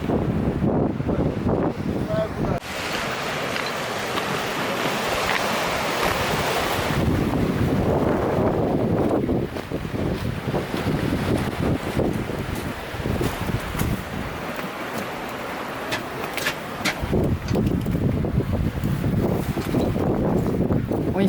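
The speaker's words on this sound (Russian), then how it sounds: "Ой, нифига себе ветер." Strong wind buffets the microphone at Cape Tobizin on the seaside, a loud, continuous roar with surf beneath it, rising and easing in gusts while people talk nearby.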